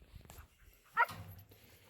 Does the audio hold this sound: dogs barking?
yes